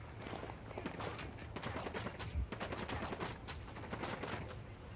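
Gunfire in the video game Ghost Recon Wildlands: dense, loud volleys of overlapping shots crack in rapid succession for the whole stretch, with a heavier blast near the middle.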